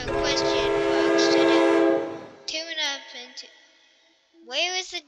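A train in the building game Brick Rigs sounds a loud, sustained horn blast for about two seconds. Shorter, wavering tonal sounds like voice follow, with gaps of near silence between them.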